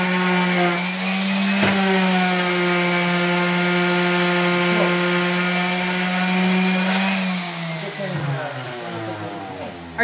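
Concrete vibrator working freshly poured concrete to drive out air pockets, a steady loud droning buzz with strong harmonics that holds for most of the stretch, then shifts and eases near the end.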